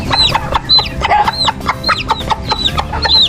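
A mother hen clucking in a backyard poultry pen, a run of repeated sharp clucks and short calls close by, with other chickens faintly in the background and no talking.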